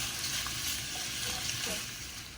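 Ground beef sizzling steadily in a hot pan for Philly cheesesteak stuffed peppers, a close, continuous fry with faint stirring and no talk.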